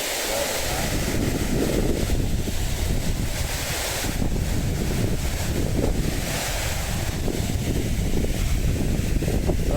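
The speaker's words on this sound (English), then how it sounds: "It's a bit windy up there." Strong wind gusts buffet the microphone beside Bannock Burn, a loud, continuous roaring rumble that swells and eases, with no talking.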